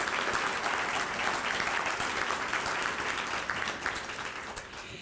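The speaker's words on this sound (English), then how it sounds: "let's give our honorees another round of applause" Guests at an awards luncheon give the honorees a sustained round of applause, a thick, continuous patter of many hands that holds steady and tapers slightly at the end.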